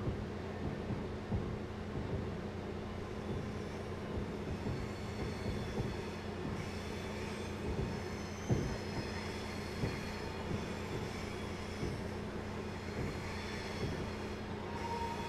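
A passenger train in the Train Simulator 2017 game rolls slowly into a station, with steady rumble, rhythmic wheel clicks over rail joints and faint squeals, continuous and close, no talk.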